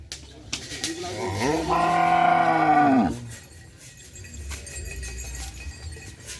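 A cow lets out one loud, drawn-out moo lasting over a second, close by, with faint background chatter and shuffling before and after, at a training field for cattle.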